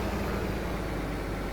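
A tractor engine idles steadily in the Farming Simulator 15 video game, a continuous low rumble that holds even and unbroken throughout.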